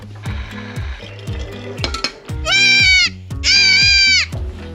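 Baby goats bleat in a farm kidding pen, two long, loud, wavering cries standing out over a run of shorter, lower calls, close by and with no talking.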